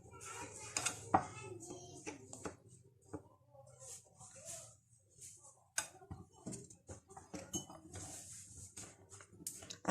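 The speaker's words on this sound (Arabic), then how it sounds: "انا معايا هنا شويه من الميه، شويه من الميه كده هقلب بيها." Coconut and peanut maamoul filling being stirred with a little water in a pot, giving soft scraping and clinking utensil knocks in an irregular rhythm, close and fairly quiet with some background noise.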